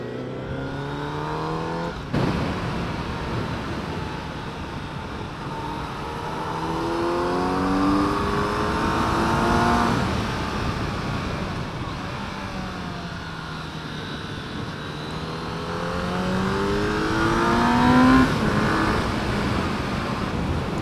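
A 2019 Kawasaki Z900RS Cafe motorcycle engine hums and rises in pitch through the gears as the bike rides along, with steady wind rush underneath.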